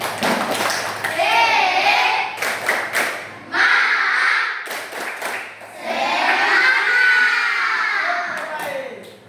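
Classroom of children clapping their hands in energetic rhythmic bursts on a teacher's cue, with kids' voices and shouts between the rounds of clapping, close and loud.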